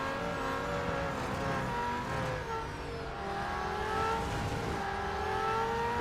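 A race car engine in the Real Racing 3 video game drones and revs continuously, its pitch rising and falling through gear changes, loud and close with no talking.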